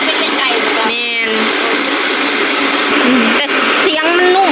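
A rice milling machine runs with a steady, broad whirring noise, while people talk over it in Lao throughout.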